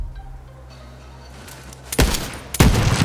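Borderlands 3 gunfire rings out after a quiet stretch: two loud bursts of rapid shots, close and sharp, over a low game-ambience hum.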